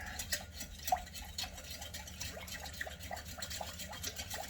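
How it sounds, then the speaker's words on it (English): Honey stirred into a teriyaki jerky marinade: soft, quiet, rhythmic swishing and scraping of a utensil through thick liquid, repeated steadily and close by. "stir, stir, stir, stir, stir, stir, stir"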